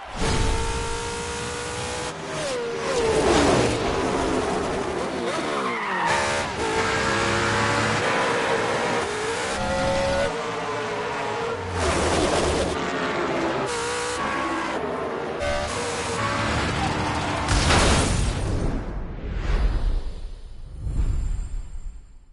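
Race cars in The Crew Motorfest on a NASCAR tour race tear past with roaring, rising and falling engine revs, gear shifts and whooshing passes, loud and close throughout before fading near the end.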